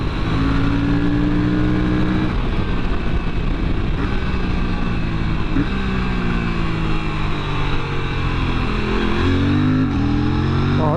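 A 2024 Aprilia RS457 motorcycle on the road with an optional quick shifter, its engine revving hard and climbing through the gears in rising sweeps with quick shift breaks, loud and close over constant wind rush, no talking.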